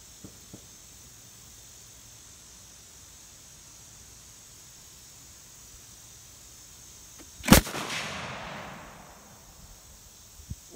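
A single sharp, loud shot from a Savage 110 tactical rifle in 6.5 Creedmoor cracks out of a quiet outdoor background, followed by a decaying echo tail that rolls off over about a second.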